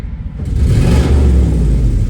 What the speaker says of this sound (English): it sounds like a proper muscle car